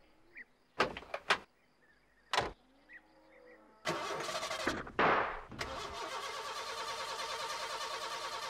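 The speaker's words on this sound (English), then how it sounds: "She won't start, Ted." A cartoon postman's van engine cranks in a few short bursts, pauses, then churns in a longer loud grinding run that never catches, with a door-like clunk among the attempts.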